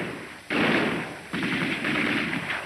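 Sustained bursts of machine gun fire rattle in a 1945 war film set on a beach, two long loud volleys back to back with a brief break, harsh and close.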